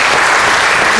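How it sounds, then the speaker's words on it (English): Thick, continuous clapping from a crowd at the CanAm Sled Dog Race awards, honoring rookie mushers of the 250-mile event; loud, even and unbroken for the brief moment. "I want you to all give a round of applause to the rookies for finishing this race."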